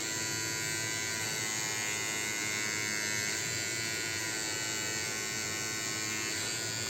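Tattoo machine buzzing steadily and close up while outlining a tattoo, a continuous bright electric drone with only slight shifts in pitch as pressure on the machine changes.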